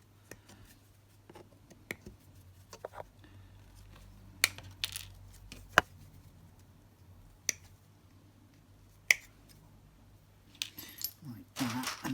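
Plastic Warhammer Wraith Lord model parts trimmed free of their sprue vents, producing sharp, sparse clicks and snips at irregular intervals against a quiet background, with a person talking softly between cuts.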